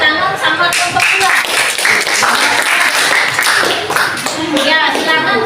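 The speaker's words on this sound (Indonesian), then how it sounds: "Kita tepuk tangan sama kelompok" A classroom group claps after a student group presentation, dense steady applause at close range lasting the whole stretch, with voices mixed in beneath the clapping.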